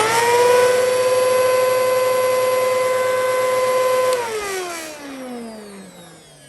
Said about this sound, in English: but listen to the motor.